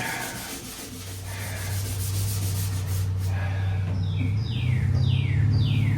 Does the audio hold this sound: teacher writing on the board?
no